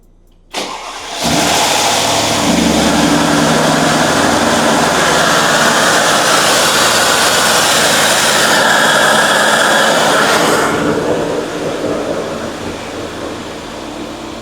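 A rebuilt Mercedes M157 engine cranks and fires for the first time, then roars into a loud, steady run that eases slightly toward the end.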